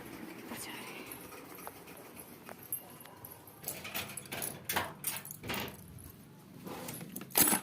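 Keys jangle and clink in a house during an evening routine, in intermittent bursts of light metallic rattling that grow busier toward the end. The jangling is fairly faint over soft background noise.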